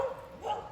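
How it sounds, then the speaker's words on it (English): A hound dog at a campsite gives a short, faint yip or whimpering bark lasting under a second. "I keep her on a leash because she's a hound dog and she loves to take off on a scent"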